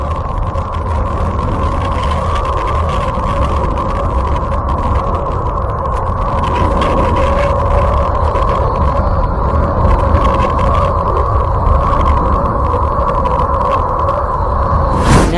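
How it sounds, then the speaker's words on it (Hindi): Planet Uranus rendered as sound: a continuous, loud rumbling hum with steady tonal bands and a noisy hiss over it, unchanging from start to finish. "यूरेनस यानी अरुण ग्रह की आवाज़।"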